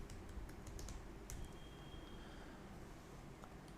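Light keystrokes on a computer keyboard, quick irregular clicks at low level over a steady room hiss, with no voices.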